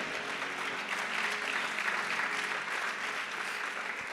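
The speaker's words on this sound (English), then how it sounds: "Can you clap your hands one more time?" A church congregation claps hands together in a dense, sustained wave of applause that fills the room at moderate volume from start to finish.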